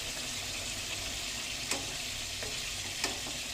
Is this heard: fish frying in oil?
yes